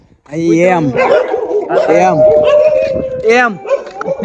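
Dogs bark, yelp and howl loudly at close range, several overlapping cries in quick succession.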